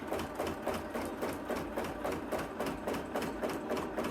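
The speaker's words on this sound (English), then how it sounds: "we're going to put our ruler down, needle down, and then we are just going to sew along here" A sewing machine doing free motion quilting along a ruler, stitching a stem with the needle down, runs close and steadily with an even, rapid rhythmic clatter throughout.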